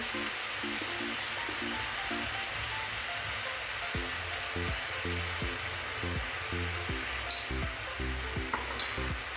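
Ghee sizzling in a pan for coconut barfi, a steady close frying hiss with a faint background hum and occasional stirring clinks.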